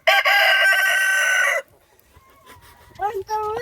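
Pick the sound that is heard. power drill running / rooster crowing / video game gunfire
rooster crowing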